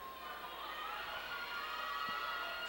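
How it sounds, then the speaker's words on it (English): A basketball crowd at a tournament fifth-place game between Bernie and Portageville keeps up a steady, dense murmur that fills the gym, with no single cheer standing out. "Hear the buzz in the crowd right now."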